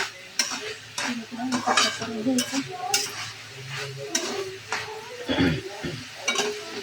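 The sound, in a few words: stirring food in a pan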